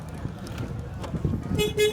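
A VAZ-2107 car horn gives two brief, faint toots near the end, heard over low engine and road rumble with quiet talk in the background.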